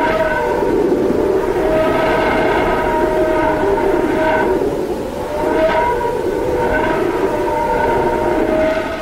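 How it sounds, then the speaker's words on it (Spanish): Sonified waves from the Sun's magnetosphere form a continuous howling, wind-like drone with layered tones that swell and fade in slow waves, loud and alone. "Pasar de unos chasquidos breves y dispersos a una cacofonía de vientos desgarradores nos indica algo"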